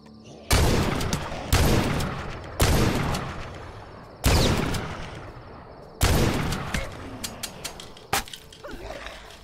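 Gunfire in the video game The Last Stand Aftermath: loud, sharp shots crack out at irregular intervals of a second or two, some doubled, with a short rattle near the end, alone without talk.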